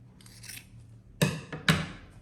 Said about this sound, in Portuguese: Passei a costura, agora é só cortar.